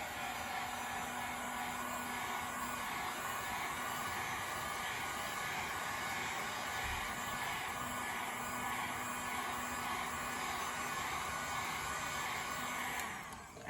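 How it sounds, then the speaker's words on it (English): A heat gun blows steadily and alone, drying wet paint, its broadband hiss and faint hum holding even for about thirteen seconds before cutting off. "I'm gonna use the heat gun, dry that off real quick."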